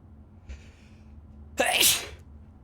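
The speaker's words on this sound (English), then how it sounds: "I just sneezed" A single sharp human sneeze, close and sudden, preceded by a faint breath in a quiet room.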